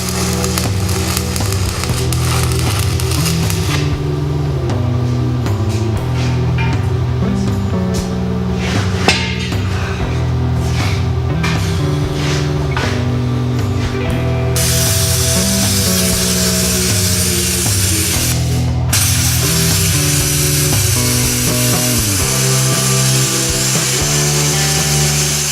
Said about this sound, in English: So in that little skit, we, I just had Seth here welding away, and I came in and plasma gouged it out.